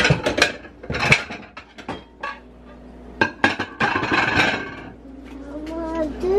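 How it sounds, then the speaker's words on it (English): Plates and dishes clink and clatter in a kitchen in a series of sharp close knocks and rattles, with a voice heard briefly. "Let me get some plates so I can take it out."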